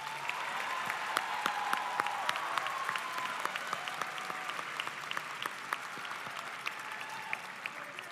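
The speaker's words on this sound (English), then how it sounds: "Can we give the graduates a round of applause" A large crowd at a high school commencement ceremony applauds the graduates, with dense sustained clapping at an even level throughout and no talking.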